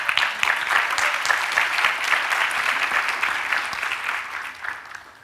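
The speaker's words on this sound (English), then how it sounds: "So big applause for you." Big room full of young people at a youth event giving sustained, lively applause, a dense, even patter of many hands that fades slightly at the close.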